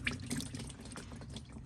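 Coolant drains out of a 1941 Ford COE truck with a flathead V8, a faint, steady trickling and splashing of thin watery liquid heard close up for a moment.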